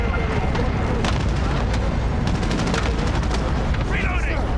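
Cluster strike explosions in a shooter video game, a dense barrage of booming blasts and crackling gunfire continuing throughout, loud and close, with a voice talking over it.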